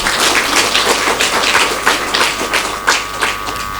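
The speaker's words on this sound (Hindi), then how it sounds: "देखो इन बच्चों के लिए ताली बजाओ" An audience at a spiritual talk on stress-free living claps for children, a loud, sustained burst of many overlapping hand claps filling the room without speech.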